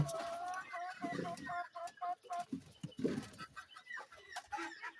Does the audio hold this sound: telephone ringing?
no